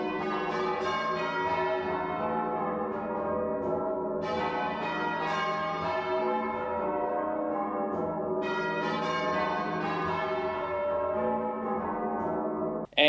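A peal of church bells rung half-muffled fills the air continuously, with steady overlapping strokes and a recurring cycle where the sharp loud strokes alternate with duller ones, sounding fairly close and unbroken by voices.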